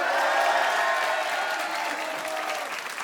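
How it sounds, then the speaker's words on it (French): A studio audience bursts into sustained, even applause with light cheering, a full crowd of clapping hands that fades slightly toward the end. "Par applaudissement, est-ce qu'il est bon délire?"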